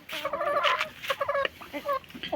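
Chickens peck and gulp salted fish, their busy clucking and gobble-like calls coming in short overlapping bursts close by, loud and fairly continuous with brief pauses.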